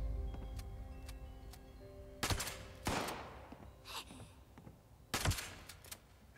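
Gunfire in Fallout 76, a few separate bursts of shots at moderate distance with gaps between them, over a low background hum and ambient game sound.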